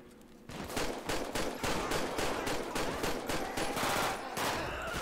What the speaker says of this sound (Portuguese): Em cima do Steve, tô tomando tiro lá em cima tem!